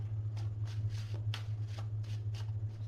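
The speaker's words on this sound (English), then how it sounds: "One more shuffle." Tarot cards being shuffled by hand, a series of about eight quick, soft riffling bursts at a steady rhythm, close up over a low constant hum, with no talking.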